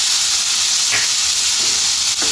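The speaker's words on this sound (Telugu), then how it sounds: "ఇది కొంచెం ఫ్రై చేద్దాం" Tamarind and garlic, with a pinch of cumin and coriander seeds, frying loudly in a pan for a tomato chutney, a close, steady sizzle and hiss with a couple of brief stirring scrapes.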